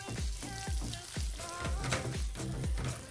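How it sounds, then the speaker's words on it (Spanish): Onion fries in browned butter in a pan, giving a bright crackling sizzle with lively popping bursts and deep thuds that repeat roughly every half second, close and fairly loud. "La manteca, cuando toma un poquito de color, bien doradito, ahí le vamos a agregar la cebolla"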